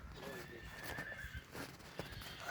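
A two-year-old horse offered for sale whinnies nearby, with faint hoof clatter and someone speaking over it in the background.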